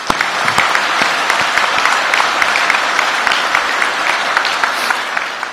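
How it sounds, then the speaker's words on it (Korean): Audience applause at a reception for the 2024 Paris Olympic team: loud, dense, sustained clapping from a large crowd close by, steady throughout with no voices rising above it. "여러분께 뜨거운 응원과 감사의 박수를 보내드립니다"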